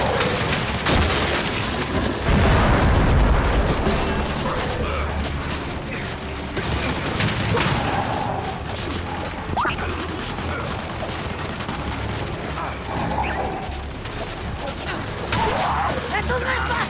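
Dense, continuous turret gunfire and explosions in a Gears 5 battle, loud and chaotic across the whole stretch, with bursts and impacts layered over shouted combat voices.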